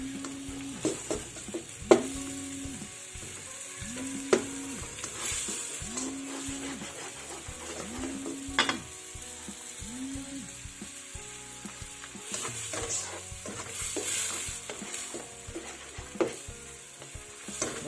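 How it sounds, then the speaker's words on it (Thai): Nham sour pork soup stirred in a pan, a spoon scraping and clinking in repeated rhythmic strokes over a low simmering sizzle, fairly quiet and close. "เดี๋ยวเราคนให้เข้ากันนะคะ"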